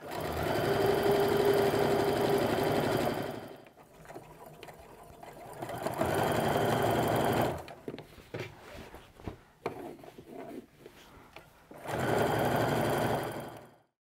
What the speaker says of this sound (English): I'm just going to go ahead and stitch all the way across the top with that 1/8 of an inch stitch